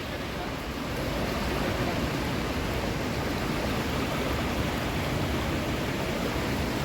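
Milky-white, fast-flowing river water known as Dudh Ganga near Pokhara, Nepal, rushes in a loud, unbroken broadband roar that holds steady throughout.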